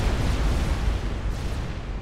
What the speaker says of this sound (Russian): А почему взрывается?